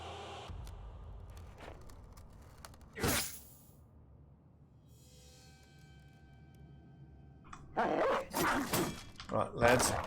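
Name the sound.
dogs barking in the video game Battle Brothers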